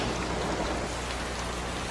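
Steady rain falling heavily on a surface, a dense continuous hiss of drops at a constant level with no pauses.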